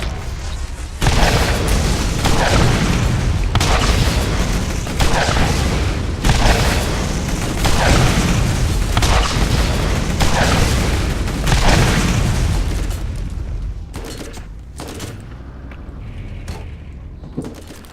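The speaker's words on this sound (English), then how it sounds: "Slow, inaccurate, weak rockets." Rocket launcher blasts in Borderlands, a rapid run of heavy booming explosions rolling one into the next for most of the stretch, then thinning to scattered distant bursts near the end.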